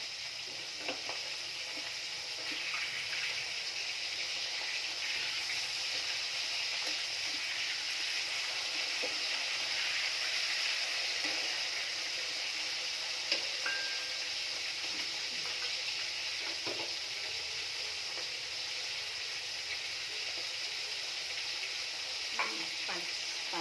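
Fish frying in a pan in a small home kitchen, a steady soft hiss of oil with scattered faint pops and crackles, moderately distant and even throughout.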